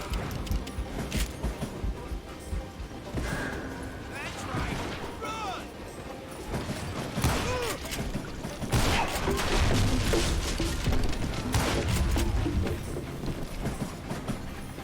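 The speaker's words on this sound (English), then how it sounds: "I wondered if I was ever gonna find the front of that train" A train rolls along in the Western video game Call of Juarez: Gunslinger, near a flat car piled with logs. A steady rolling clatter and rumble runs throughout, broken by loud bursts of gunfire and crashing impacts.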